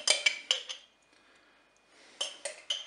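Metal utensil scraping and clinking against a Cookeo multicooker pot while stirring pasta, chicken and mustard, a burst of several quick clinks, a pause, then another run of sharp close clatters.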